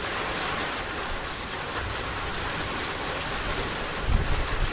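Thunder rolls through steady heavy rain drumming on a surface indoors, a low rumble building and swelling louder near the end.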